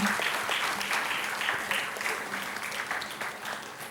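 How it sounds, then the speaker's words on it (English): Audience applause at a literature and arts platform inauguration, steady dense clapping throughout, moderately loud and fading slightly toward the end. "May we join our hands together in applauding Malvika Tiwari and Deepa Satish."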